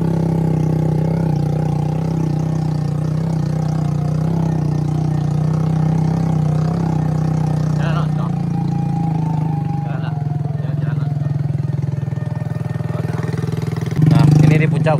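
An old, battered motorcycle engine runs steadily close by with a droning hum, briefly revving near the end, while people talk over it.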